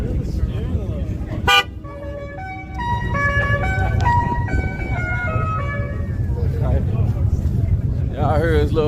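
A Tesla's short horn toot sounds once near the start, followed by bright electronic tones and chimes over steady background noise and talk.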